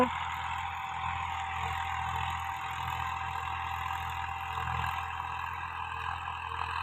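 Massey 244 tractor engine running steadily, a low diesel thrum with a faint periodic throb under a continuous hiss of wind or road noise, moderately distant and without speech.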